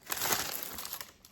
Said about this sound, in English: this paper is going to get loud